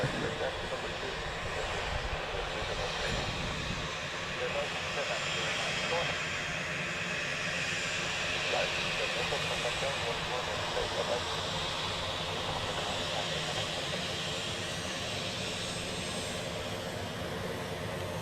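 A British Airways Embraer jet arriving at Dublin Airport from London City, its engines making a steady, broadband roar throughout, with talk over the noise.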